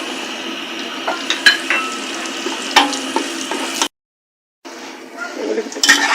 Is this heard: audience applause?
no